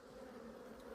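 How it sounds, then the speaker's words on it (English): Honeybees buzzing after being shaken off a hive frame during a swarm inspection, a steady, close, even drone with no breaks. "And that has cleared the bees off."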